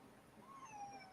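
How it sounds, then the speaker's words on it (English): A cat gives a single faint, drawn-out meow indoors, rising and then falling over about half a second under a low room hum. "Why do you keep meowing?"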